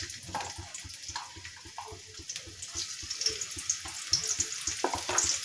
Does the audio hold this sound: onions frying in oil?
yes